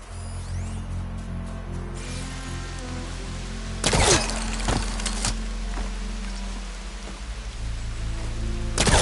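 Steady hiss of rain falling in Horizon Forbidden West, with a few louder spattering bursts and an occasional low rumble underneath, continuous with no speech.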